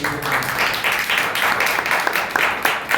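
A church congregation claps together in a rhythmic, steady applause, fairly loud in a reverberant room.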